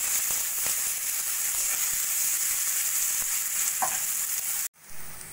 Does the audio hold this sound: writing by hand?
no